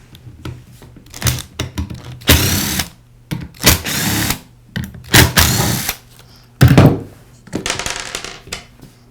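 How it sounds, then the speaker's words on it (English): Three screws are backed out of the pad on a Porter Cable sander with a driver, giving repeated short, loud whirring bursts with clicks and small knocks between them, close up and with no voices. "I'll begin by removing the 3 screws that secure the sander pad to the sander."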